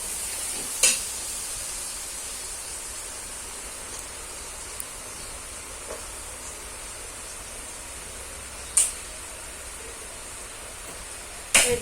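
Chapati with chilli and onion fries in oil, giving a faint, steady sizzle with a few sharp clicks of a utensil scattered through, and no talking.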